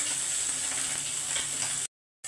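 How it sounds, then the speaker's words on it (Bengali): Small iced rohu-type fish fry in hot oil, giving a steady, close crackling sizzle with fine popping spits that runs evenly before cutting off abruptly into silence near the end. "কি সুন্দর মাছটা ভাজা হয়ে যাচ্ছে"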